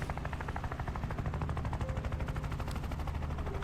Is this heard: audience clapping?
no